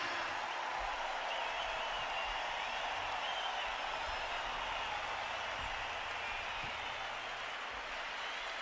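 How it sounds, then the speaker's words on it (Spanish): A stadium concert crowd in San Mamés, Bilbao applauds band members, a sustained wash of distant clapping and cheering that stays even and fairly faint throughout. "Bilbao, os pido un aplauso para cada uno de ellos."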